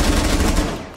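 A loud, close burst of gunfire in Rainbow Six Siege, a single dense blast lasting about a second with no talk.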